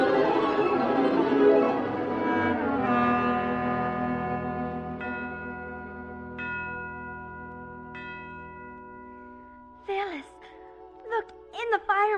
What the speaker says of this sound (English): Alice, what are those bells?